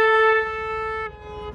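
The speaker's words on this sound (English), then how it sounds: "We honked at each other." A single car horn blasts steadily for about a second, loud and near, then fades to quieter background road noise.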